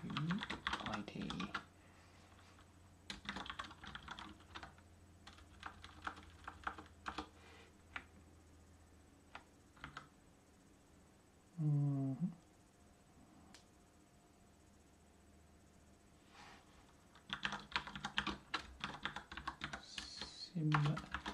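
Bursts of typing on a computer keyboard come in short clusters separated by quiet pauses, with a low hum and a brief voice in the background.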